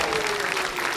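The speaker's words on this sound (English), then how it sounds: "Okay, you can clap now." Brief burst of audience applause after a juggling trick at a juggling show, dense clapping filling the moment with a faint sustained tone underneath.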